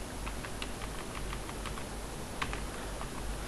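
Rapid, irregular keystrokes on a computer keyboard while PHP code is typed, light clicks scattered over a steady low background hum with no talking.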